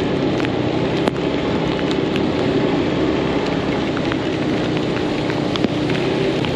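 Steady rain hisses down on a city street in Saigon's District 1 near Bui Vien, a dense, loud, unbroken wash of drops with occasional sharper splashes and no voices.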